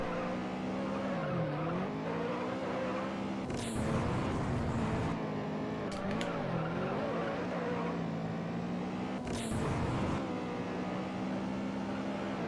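A race car in the racing game Juiced drives under nitrous with a constant loud engine drone, its pitch dipping and rising through gear changes, joined by brief bursts of tire squeal and scraping.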